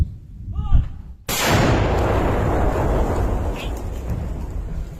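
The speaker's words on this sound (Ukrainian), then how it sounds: "Гармата, вогонь!" Someone shouts a command, then a heavy 1986-built artillery gun fires in Donetsk region with a sudden deafening boom that rolls into a long rumbling echo.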